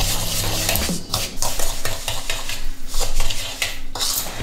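A spoon or spatula scrapes and clinks against a bowl while mixing cookie dough ingredients, giving close, uneven rhythmic stirring and tapping strokes with no talk.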